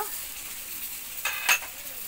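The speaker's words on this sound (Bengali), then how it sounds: "এবার মশলাটাকে ভালোভাবে কষিয়ে নেব।" Spiced masala paste sizzles softly in a pan for a tilapia fish curry, with a steady low frying hiss and a couple of brief louder stirring scrapes near the end; no voices.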